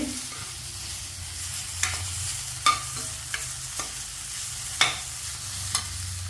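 Carrots being sautéed in a pan for a carrot and paneer biryani, with steady sizzling under repeated sharp scrapes and taps of a stirring spoon, close and fairly loud, no talk.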